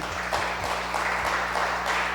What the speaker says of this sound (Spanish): ¿Por qué no le damos un fuerte aplauso a Dios por eso, verdad?